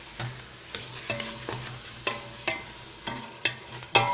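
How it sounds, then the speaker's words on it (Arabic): Chicken frying with pepper, turmeric and ginger in a pot, giving a steady low sizzle under repeated scraping stir strokes of a utensil, several sharp clinks and scrapes spaced about half a second apart, close and moderately loud, with no talk. "الدجاج ديالنا يقلي"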